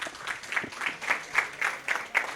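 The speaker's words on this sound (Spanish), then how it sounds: "un aplauso para ustedes que se mantuvieron" Audience applause closing a conference talk on inclusive language, a steady patter of clapping from a modest crowd with regular louder bursts, fairly close and unaccompanied by speech.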